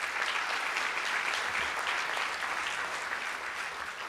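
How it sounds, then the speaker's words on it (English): Audience at a mayoral forum on sustainability breaks into sustained applause, an even wash of clapping heard from a moderate distance, fairly quiet and steady throughout. "first time that line's ever gotten applause."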